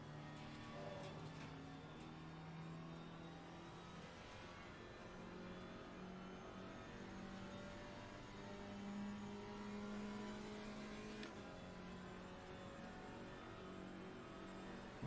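Alpine A110 GT4 race car engine in Assetto Corsa Competizione, a steady loud in-car drone with rising and falling harmonic tones as revs climb and the gearbox shifts, continuous for the whole stretch with no talk.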